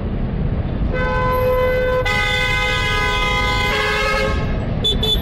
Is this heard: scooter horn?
yes